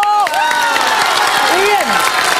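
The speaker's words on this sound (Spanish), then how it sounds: "¡Un aplauso!" Studio audience claps and cheers throughout the short stretch, mixed with whooping voices and a bright musical sting over the crowd noise.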